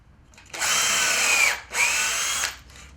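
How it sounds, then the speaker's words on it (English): A power drill bores pilot holes through a back piece of reclaimed timber for a boot rack, with two sustained high whines of about a second each, separated by a brief pause, close and alone. "I'm drilling 6 pilot holes in the centre of this back piece of timber"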